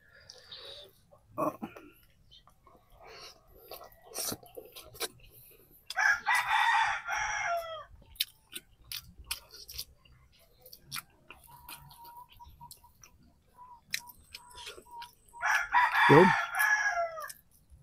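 A rooster crows twice, loud and fairly close, the calls several seconds apart, with scattered clicks and chewing noises in between.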